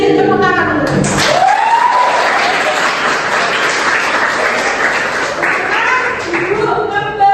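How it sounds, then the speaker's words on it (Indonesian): Children in a classroom clap their hands together in a continuous, lively burst of applause that stays close and loud from start to finish, with faint young voices mixed in. "Tepuk tangan dulu."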